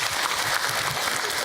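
An audience at a religious lecture breaks into loud, dense applause, a steady wash of clapping with no pause.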